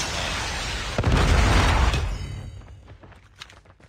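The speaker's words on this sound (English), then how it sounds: "Predator missile inbound." A predator missile strike in Call of Duty: Mobile on the Firing Range map, with a sudden heavy boom and roaring blast that rumbles for about a second, then fades into scattered debris and small pops.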